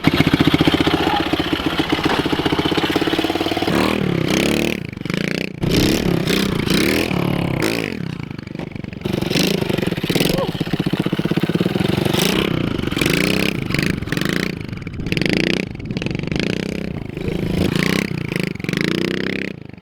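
A pit bike engine drones loudly and close up, bogging under throttle before revving up again in repeated surges, with clattering mechanical noise throughout and no talking.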